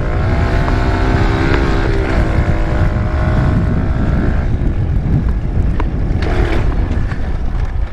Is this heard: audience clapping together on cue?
no